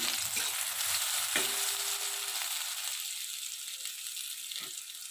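Brinjal (eggplant) slices fry in a pan under a lid, giving a steady close sizzle with a few faint clinks and stirring taps. No one speaks.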